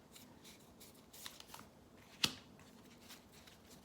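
Tarot cards are shuffled and laid out, with soft repeated riffling and sliding, then one sharp snap of a card being placed, close and quiet with no talk.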